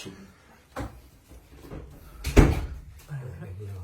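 Door being closed, a single sharp thump near the middle after a softer earlier knock, with faint room noise and some talk around it.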